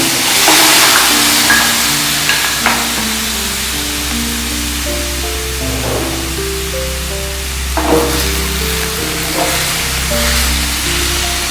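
Squid pieces sizzle and hiss in a hot pan, a steady bright frying noise holding throughout with soft stirring and scraping now and then, under low background music tones.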